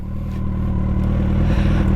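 A motorcycle engine idling loud and close, its low rumble rising slightly as a little throttle is applied, a steady throb building over two seconds with no talking.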